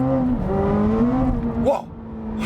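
A 2026 Chevrolet Corvette ZR1X, an all-wheel-drive supercar, downshifts and accelerates at full throttle, its engine note climbing steadily in pitch and roaring loud from inside the cabin, then briefly breaking off before resuming.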